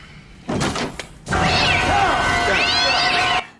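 A cat in a scene from the film End of Days. A short burst of noise and a door-like thunk come first, then a long, loud, wavering meow that fills most of the scene.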